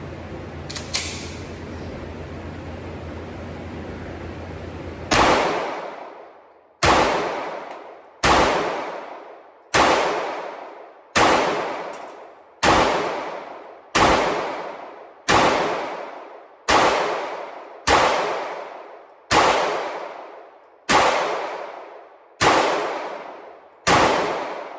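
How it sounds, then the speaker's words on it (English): A concealed-carry pistol is fired downrange at an outdoor range: about fourteen loud, sharp shots at a slow, steady pace, each followed by a ringing decay, with no talking. "I'm going to shoot a few of these downrange just to check this one out and get more rounds through it"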